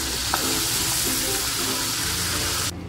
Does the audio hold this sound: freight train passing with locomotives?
no